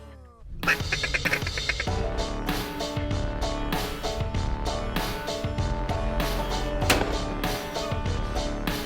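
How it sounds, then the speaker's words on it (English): Thousands of ducks quacking at an opening-day duck hunt in Arkansas on a crisp, windy morning, a loud, continuous chorus of overlapping quacks from a nearby flock. "there was thousands of ducks"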